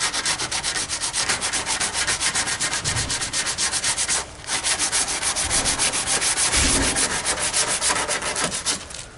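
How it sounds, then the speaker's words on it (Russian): Coarse 80-grit sandpaper is worked by hand across a wooden door opening, making steady rhythmic scratchy rasping strokes that continue close and loud throughout, with a brief pause midway. "Я сейчас выпилю проем потихоньку. Беру 80-ку."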